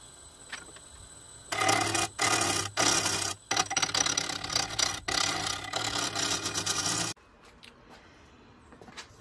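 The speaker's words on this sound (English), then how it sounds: "I'm going to start out with a bowl gouge." A bowl gouge cuts a wooden dome on a lathe with a loud, coarse scraping rasp that comes in bursts with brief gaps. Quieter shop noise comes before and after the cutting.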